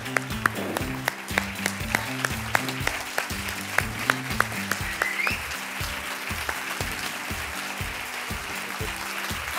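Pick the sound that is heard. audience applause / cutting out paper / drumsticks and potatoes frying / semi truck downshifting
audience applause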